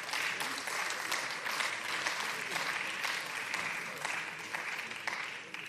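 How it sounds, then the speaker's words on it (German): Audience in the Berlin parliament chamber claps steadily throughout, a dense even applause heard from within the hall. "Jetzt können Sie noch mal klatschen."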